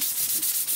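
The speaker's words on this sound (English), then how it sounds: "So just continue sanding until you get a nice," Quick rhythmic sanding strokes, a soft hissing rasp repeated several times in under a second, close up.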